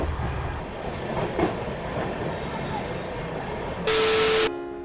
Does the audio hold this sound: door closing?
no